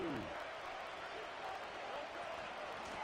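Crowd noise fills a stadium in an EA Sports Madden American football video game late in a tied fourth quarter, a steady loud roar of cheering throughout with a brief rising call at the start.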